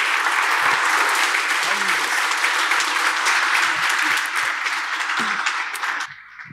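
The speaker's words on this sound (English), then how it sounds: "please welcome him with a huge round of applause" A large audience at IIT Kanpur claps loudly and steadily to welcome a speaker to a history society lecture, the applause fading out at the end, with faint voices under it.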